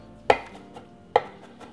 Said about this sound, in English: Cut the ends off, slice and run your knife through for a rough chop.